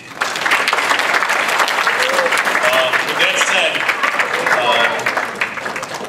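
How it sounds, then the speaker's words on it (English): Loud, sustained applause fills a youth soccer club's awards banquet, with a few voices and whoops mixed in and a speaker's brief words near the end as the clapping begins to taper. "I think everyone deserves a round of applause just for that"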